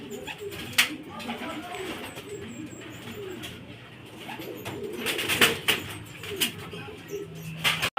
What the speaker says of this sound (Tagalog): Mainit na mga kalapatids kaya pumasok na.